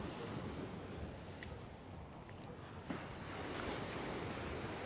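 Sea waves roll in steadily at an evening beach promenade on the Side strand, a continuous broad surf wash with light wind, no one talking nearby.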